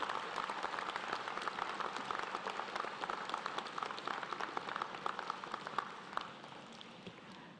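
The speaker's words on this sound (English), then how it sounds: "Now would be a good time to stand and applaud all who have helped you to get to this point" Steady applause from a large seated audience at a University of Guelph convocation, many hands clapping in a dense, even patter that carries on for several seconds and eases slightly toward the end.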